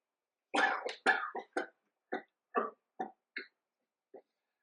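A bout of repeated coughing, several harsh coughs in quick succession that thin out into fainter, spaced hacks, close and alone.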